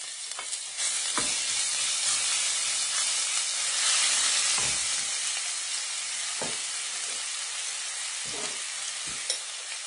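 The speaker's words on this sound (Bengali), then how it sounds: "ইলিশ মাছ দিয়ে সামান্য রসুন দিলাম আমি।" Hilsa fish and a little garlic frying in mustard oil, a steady loud sizzle and hiss running throughout, with occasional sharp crackles and spatters popping up over the bubbling.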